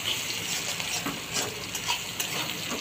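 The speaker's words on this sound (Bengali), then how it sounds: "এটাতে এবার পেঁয়াজগুলোকে একটু লাল লাল করে ভেজে নেব।" Sliced onions fry in hot oil in a pan while cooking bhetki fish chorchori, giving a steady, dense sizzle and crackle throughout, close and fairly loud, with no voices.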